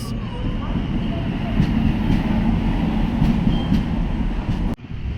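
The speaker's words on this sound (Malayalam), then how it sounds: "അങ്ങനെ നമ്മുടെ ട്രെയിൻ എത്തിയിരിക്കുന്നു" A passenger train pulls into a station in Kerala on a journey toward Kannur, a loud, continuous low rumble of wheels and carriages close by that drops out abruptly near the end, with faint talk in the background.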